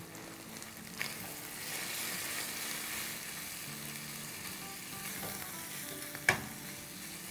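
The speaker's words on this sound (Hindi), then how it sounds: "अब इसको अच्छे से भूनेंगे।" Cumin, salt, turmeric and coriander powder fry in a pan over a medium flame with a dense, continuous sizzle. Occasional sharp scrapes and taps from stirring break through it.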